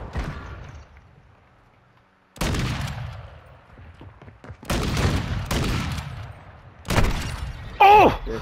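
Video game gunfire from a pretty good gun, several loud separate bursts of rapid shots with sharp attacks and ringing tails, spread across the stretch with quieter gaps between them.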